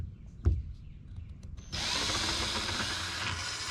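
A power drill whirs steadily for about two seconds while drilling a hole to install a boat rod holder, after a few light handling knocks, loud and close, with no talking.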